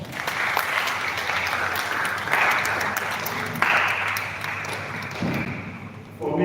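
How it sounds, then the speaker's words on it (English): A festival crowd gives sustained applause, a dense wash of clapping that surges a couple of times before tapering off, with occasional thumps and a voice briefly audible. "let's start by giving yourselves a big round of applause"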